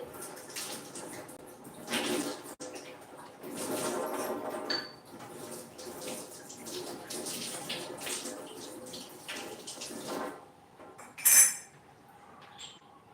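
Copper and brass pots being washed by hand, with running water splashing in a sink, occasional clinks of metal vessels and a sharp bright clatter near the end, close by and with no talking.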